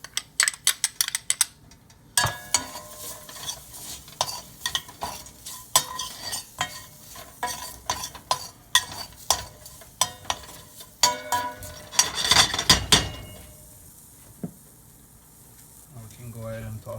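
Garlic frying in a pan for curry shrimp, a steady sizzle under repeated scrapes and clinks of a utensil stirring, with a louder burst of frying midway before it settles.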